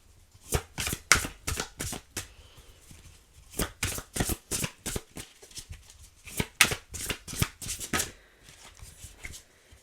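Tarot cards being shuffled by hand in repeated quick riffling bursts, close and crisp, running steadily with short pauses between rounds and no talk.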